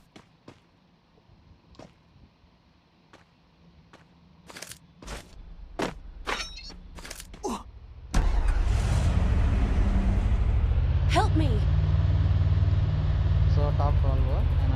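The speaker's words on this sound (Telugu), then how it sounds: "ఎమర్జెన్సీ వెహికల్ వేసాను" An emergency vehicle in the Free Fire mobile game runs with a loud, steady engine drone that kicks in abruptly midway and continues. It follows a series of sharp game clicks and cracks, with a voice talking over it.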